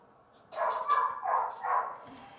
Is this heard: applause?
no